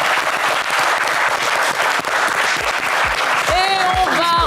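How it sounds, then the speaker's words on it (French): A studio audience on a French game show claps and applauds loudly and steadily, with music rising near the end. "On va vous applaudir très fort."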